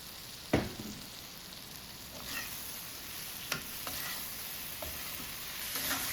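Bitter melon and chicken strips with oyster sauce being stirred in a pan, giving a soft steady sizzle broken by occasional scraping and clinks of the utensil against the pan.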